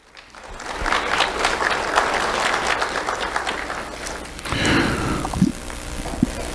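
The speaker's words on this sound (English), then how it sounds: "Round of applause for Brianna." Audience at a school awards ceremony applauds a student honoree, steady broadband clapping swelling and holding for several seconds with a few louder claps and crowd murmur near the end.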